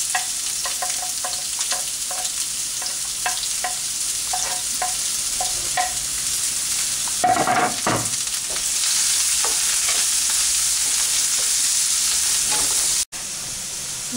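Onion frying in warm olive oil gives a steady, close sizzle and hiss. Repeated stirring clatters over it, one louder burst of spattering comes midway, and the frying continues evenly afterward.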